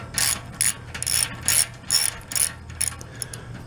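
A ratchet loosening a 15 millimeter axle nut on a bike clicks in quick bursts, about eight short rapid ratcheting runs close up in under four seconds.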